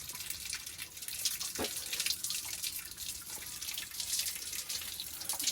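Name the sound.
water running while someone bathes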